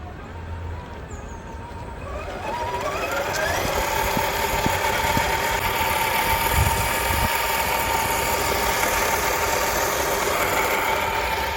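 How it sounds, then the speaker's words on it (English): An RC crawler truck on a trail, its electric motor whining up from slow crawl to a steady higher pitch that holds for several seconds, close and fairly loud with no voices. "We'll just see how slow we can crawl, how responsive this gigantic controller is."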